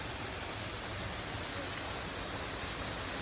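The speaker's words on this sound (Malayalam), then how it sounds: "ഓക്കെ ഇതാട്ടോ വെള്ളച്ചാട്ടം." The Njand Irukki waterfall pours in a steady, dense rushing roar that holds even and unbroken throughout, close and full, with no voices.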